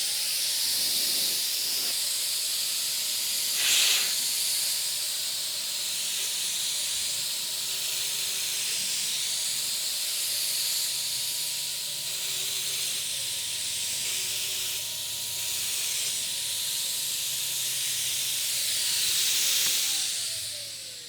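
A Wagner FLEXiO 4000 paint sprayer blasts paint onto cardboard with the material flow set near three-quarters, giving a loud, steady airy hiss that holds unbroken for about twenty seconds before easing off at the end.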